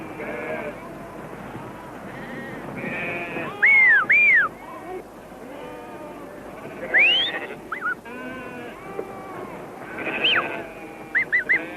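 Many sheep bleat, overlapping and continuous, with a few louder calls nearby and a couple of sharp shepherd's whistles cutting through.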